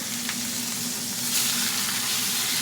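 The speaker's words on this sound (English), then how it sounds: "All right, skirt steak's been going for a little bit." Skirt steak sizzling in a hot pan for a breakfast burrito, a steady, close crackling fry with faint hiss and low hum, no talk.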